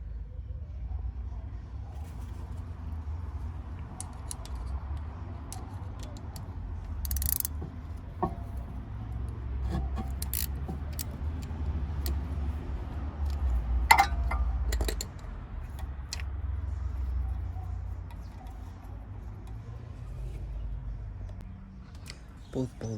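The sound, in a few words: undoing bolts on VW Golf MK7 rear brake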